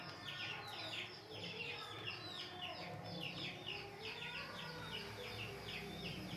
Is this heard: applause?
no